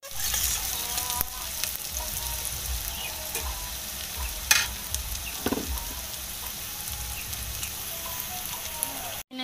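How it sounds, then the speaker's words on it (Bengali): Onions fry in hot oil in a pan, a steady loud sizzle running throughout, broken by a few scraping stirs and clinks of the spatula against the pan; no one speaks. "পেঁয়াজটা লাল লাল করে ভেজে তারপরে দিয়ে দেবো মশলা, আর পেঁয়াজটা ভাজা হয়ে যাক।"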